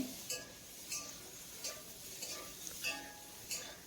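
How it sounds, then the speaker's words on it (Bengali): Boiled jackfruit frying gently in oil in a kitchen pan, a quiet sizzle with soft periodic clinks and scrapes of stirring about every half second, no voices. "এঁচোড়টাকেও 2-3 মিনিট ভেজে নেব।"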